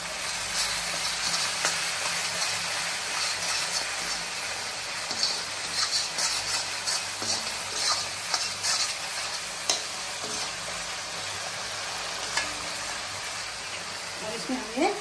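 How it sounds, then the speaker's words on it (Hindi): Spice masala sizzles and crackles in hot oil with okra and whole chilies in a pahadi potato dish, a close, continuous frying with occasional stirring scrapes and pops. "मसाला हमारा भून चुका है।"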